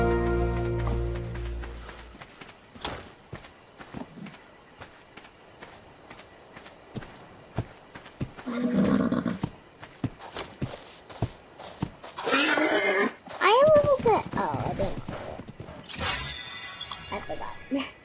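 A horse whinnies in ARK Survival Evolved, a rising, wavering neigh in the latter part among busy game sounds: footsteps, thuds and scattered effects, with someone talking over parts of it.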